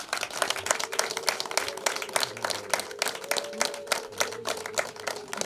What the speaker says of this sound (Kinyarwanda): muhuze ibiganza amashyi y'urwunge maze tuyaha abasangwa batwakiriye neza